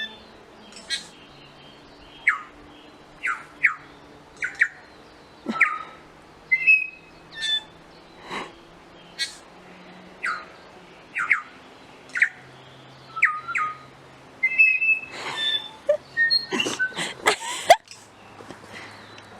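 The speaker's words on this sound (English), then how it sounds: "That's the birds." Birds in New Zealand's South Island call in repeated sharp chirps and whistles, roughly every second or two, growing busier and overlapping near the end, over a faint low hum.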